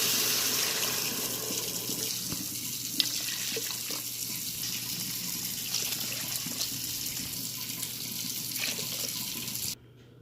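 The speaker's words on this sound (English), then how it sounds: "Next we're going to add 3½ cups of water." Steady rush of water pouring into an Instant Pot, continuous and fairly loud for about ten seconds before cutting off abruptly.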